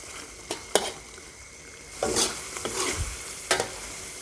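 Thai red curry paste stir-fried in oil in a pan for an old-style curry, a soft continuous sizzle broken by sharp spatula scrapes and knocks against the pan at irregular intervals.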